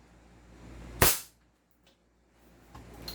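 A single sharp crack from a non-upgraded 2011 5.1 T-Rex airsoft pistol firing, close and brief, followed by near silence and faint rustling afterward.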